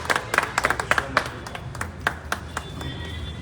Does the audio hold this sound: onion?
no